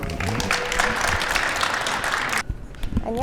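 An audience at a startup talk concert bursts into loud, dense clapping that stops abruptly, and a single voice then begins speaking.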